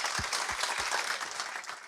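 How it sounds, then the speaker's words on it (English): Applause from a professional-networking audience for the panelists at the launch of an Agile community of practice, a steady wash of clapping sustained for about two seconds with a few heavier, nearer claps low in the mix. "quick round of applause for the panelists"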